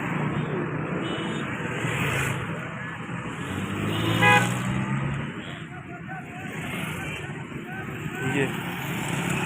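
Cars pass along a busy road near T Chowk toward Islamabad, a continuous loud traffic roar swelling as a vehicle goes by, with a horn toot in the mix and someone talking over it.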